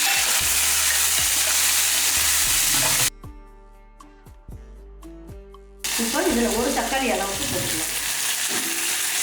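Shallots, garlic and curry leaves frying in oil make a loud, close sizzle and hiss with stirring scrapes, broken by a few seconds of quiet clicks before the crackling returns strongly.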